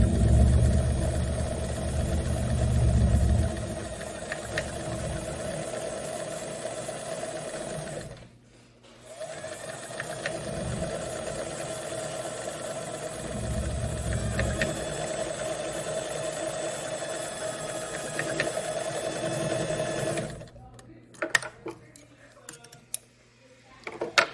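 A sewing machine runs a zigzag stitch along a seam allowance on wide-leg trousers, making a steady, close mechanical whir with rapid ticking. It stops briefly, then resumes and cuts off near the end.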